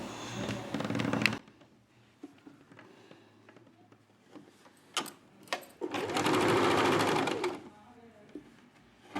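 Sewing machine stitching piping in a tailoring setting, two loud close runs of rapid motor whirr separated by quieter handling clicks and taps.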